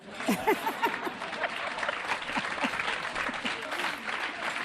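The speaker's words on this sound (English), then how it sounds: "Whoa, the crowd roars." A crowd roars and claps in a sustained wave of dense applause mixed with cheering voices. It stays loud and lively, peaking early and carrying on evenly.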